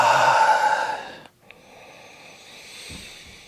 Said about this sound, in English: One more big inhale and slow exhale.